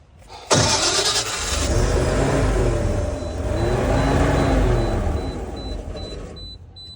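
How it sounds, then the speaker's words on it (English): Natural gas generator engine cranking without starting, with a loud steady starter churn and rhythmic pulsing compression strokes for several seconds before stopping, heard close and alone. "so we're here for a crank no start, which sounds like this"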